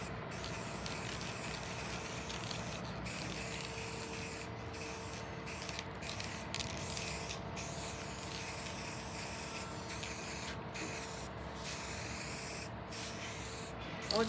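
Gold spray paint hisses from an aerosol can in a steady, continuous spray at close range, with brief breaks, used on a Christmas tree painting.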